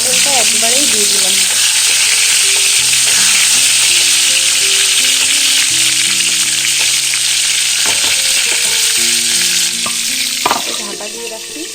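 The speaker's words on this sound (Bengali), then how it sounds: "এখন পটলটা ভাজবো" Pointed gourd (potol) frying in hot oil in a wok, a loud steady sizzle running continuously with occasional stirring clinks, dropping off slightly near the end.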